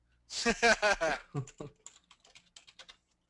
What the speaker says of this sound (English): Sorry for the typing, guys.